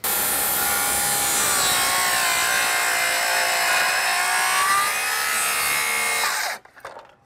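A circular saw whines steadily through a wooden hip rafter for several seconds at close range, then cuts off abruptly, leaving brief rattling and quiet.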